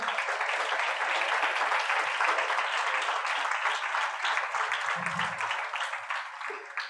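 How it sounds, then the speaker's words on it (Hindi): Sustained applause from a church congregation responding to a preacher, dense steady clapping that fills the space evenly and continues without pause to the end. "तो जरा तालियां बजाएं यीशु मसीह के।"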